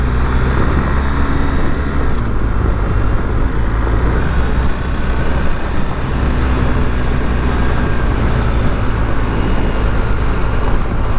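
A BMW R1250GSA motorcycle rides over loose gravel, producing a loud, continuous engine drone mixed with wind rush and rumbling tyre noise that stays steady throughout.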